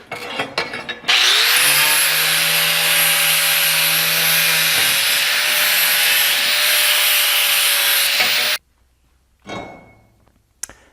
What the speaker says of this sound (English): Just using a flap wheel on my grinder.